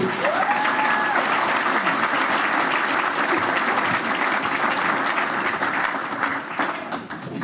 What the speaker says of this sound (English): ladies and gentlemen, a big round of applause for our mayor, Mayor Michelle Wu.